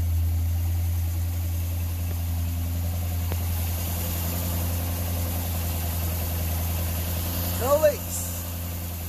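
A boat's starboard engine idles steadily with a constant low rumble throughout, heard close by while a person speaks briefly over it.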